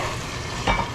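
Beef and pepper sizzle in a Hexclad non-stick pan over lower heat, a steady close crackle with a brief louder stir or scrape near the end.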